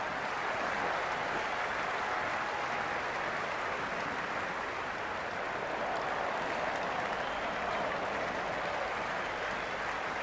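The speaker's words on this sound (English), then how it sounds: "The crowd are making a heck of a lot of noise even before the first ball's been bowled." Dense, sustained crowd applause and roar fills a cricket stadium in the Cricket 26 video game during a Zimbabwe vs Pakistan T20I match, a steady wash of noise with no breaks throughout.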